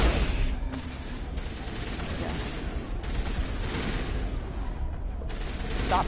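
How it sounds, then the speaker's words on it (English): Rapid bursts of video game gunfire crackle continuously, loud and dense with little pause, sounding like sustained automatic fire and scattered shots filling the scene. "Stop shooting! Oh my god, stop shooting!"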